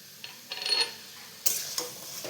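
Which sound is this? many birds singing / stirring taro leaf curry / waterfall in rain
stirring taro leaf curry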